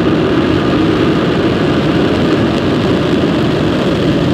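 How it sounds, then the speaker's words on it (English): A SpaceX Falcon 9 rocket's engines ignite at liftoff, producing a dense, constant, very loud roar with no break for the whole stretch. "Ignition, engines full power, and liftoff."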